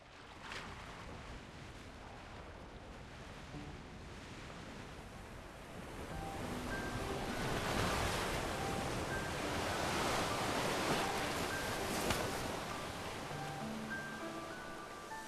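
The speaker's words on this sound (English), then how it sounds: "The waves will carry us to that empty stretch of sea once more." Ocean waves rolling across an open stretch of sea in the video game Love and Deepspace, a steady wash of surf that swells louder midway and holds, with no voices.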